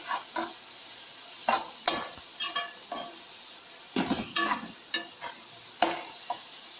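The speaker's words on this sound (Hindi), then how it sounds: "कीमे को अच्छी तरह भून लेंगे।" Minced meat keema frying in a pan: a soft background sizzle with frequent clinks and scrapes of a spatula stirring against metal, close by, with no talking.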